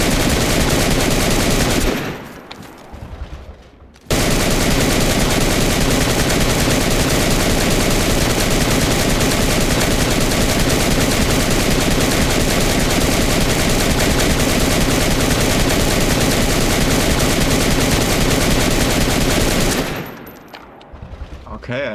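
AK rifle fire aimed at a locked door in the game DayZ, a long, loud, continuous automatic stream that pauses briefly for a few seconds early on and then resumes until near the end.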